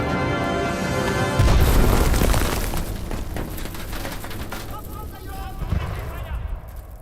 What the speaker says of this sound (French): Attention, grenade.